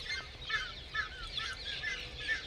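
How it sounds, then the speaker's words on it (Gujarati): Birds call in farm fields, a faint series of short chirps repeating roughly every half second over a quiet low background hum, with no one talking. "આ બાજુ પક્ષીઓનો અવાજ"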